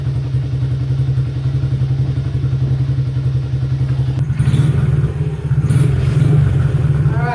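A Honda CRF50F dirt bike with a freshly cleaned carburetor idles close by, a loud, steady rapid putter that turns rougher and louder partway through, with some clattering and thumps, and nobody speaks.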